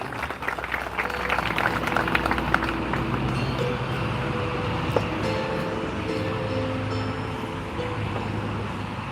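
Applause from an outdoor crowd at the unveiling of a Trabzonspor monument in Hürriyet Park, welcoming the Yomra mayor to the podium; steady dense clapping that runs the whole time at moderate loudness, with voices and a low rumble mixed in.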